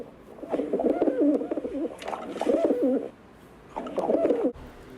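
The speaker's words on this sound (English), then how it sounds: "The sound of pigeon is" A pigeon coos nearby in soft, throaty, rolling phrases, two long bursts, a short pause, then one more.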